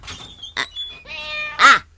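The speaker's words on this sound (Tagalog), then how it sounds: "Wen, pusa, agninyaw." A cat meows loudly and close by in a home, giving about three distinct meows with short pauses. The last cry is the strongest.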